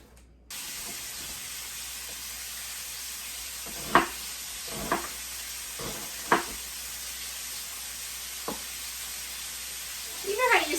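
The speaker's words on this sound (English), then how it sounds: "Let me get this hamburger going." Hamburger meat sizzling in a pan, a steady frying hiss throughout with occasional spatters and stirring clinks breaking through, heard up close with no talking.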